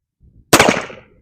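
A single loud, close gunshot from an M1861 Spiller & Burr revolver cracks out after a brief faint rustle, leaving a short decaying echo; no voices.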